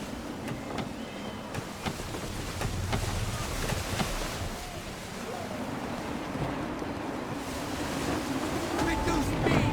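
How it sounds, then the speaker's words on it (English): Wind and ocean waves rush around a sailing ship at sea in Assassin's Creed 3, a steady loud wash of gusts and surf that swells toward the end, with voices speaking over it. "Wind looks to be shifting. Stay alert, Connor. Gusty winds can be difficult to manage."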